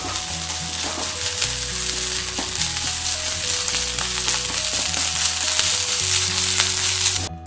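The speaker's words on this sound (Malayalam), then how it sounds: "മല്ലിയിലയും വഴറ്റാം. ഉള്ളി ഇട്ട് കൊടുക്കുക. ഇതൊന്ന് ജസ്റ്റ് ഒന്ന് വഴറ്റിയെടുക്കാം." Coriander leaves and onion sautéing in a pan for a chammanthi chutney: a loud, continuous close sizzle with a few soft stirring scrapes and no voices.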